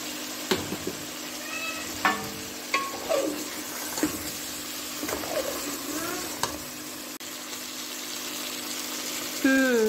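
Green chillies are sautéed into balti chicken in a hot pan. A steady sizzle runs under repeated scraping stirs, and short squeaky tonal cries recur throughout.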